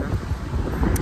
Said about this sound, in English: Today's a windy day and I love it.